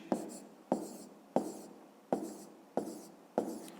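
Handwriting a fifth-grade math solution on paper: six evenly spaced strokes of a pen, each a crisp scratch that fades quickly, fairly close and quiet with no talking over it.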